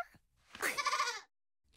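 One short, nasal cartoon goat bleat, clear and fairly close, with a quiet pause after it.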